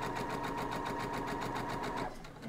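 A sewing machine stitches a quilt block, running at a fast, even rhythm with a steady mechanical whir and rapid needle clatter, close and alone, then slowing to a stop at the end.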